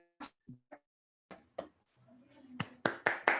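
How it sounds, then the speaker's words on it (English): Applause after a university lecture on systematic inventive thinking. The room is quiet at first, with a few scattered sounds, then a short run of loud, close hand claps starts near the end. "So a big round of applause for all of them."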